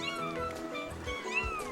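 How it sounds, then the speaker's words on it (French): Tiny kittens in a Caillou cartoon give several thin, high, wavering meows that overlap one another, close and clear, with no one talking. "Caillou n'avait jamais vu de chaton aussi petit."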